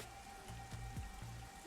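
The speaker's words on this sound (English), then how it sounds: "The rain just won't stop," Steady rain falling in the video game Master Detective Archives: Rain Code, a soft, continuous patter at low volume beneath faint game music tones, no voices present.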